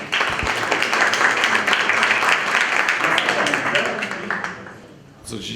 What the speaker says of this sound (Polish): Brawa do pana dyrektora